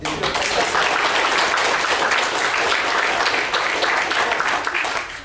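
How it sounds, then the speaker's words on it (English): An audience at a presentation by special-needs children breaks into steady, dense applause, many hands clapping loudly and continuously for around five seconds with faint voices mixed in, tapering slightly at the end. "please give them a round of applause"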